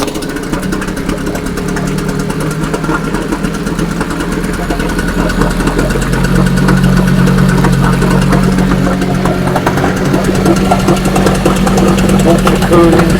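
A Selva 130 6hp outboard motor runs steadily up close, its mid-pitched knocking idle picking up and growing louder partway through, with a voice faintly underneath.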